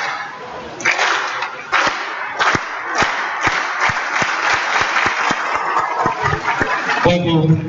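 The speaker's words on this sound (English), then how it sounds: "Please clap." Audience at a Federal Polytechnic Offa event claps in sharp, loud, rhythmic unison strokes, evenly spaced as if following a leader, with a voice speaking near the end.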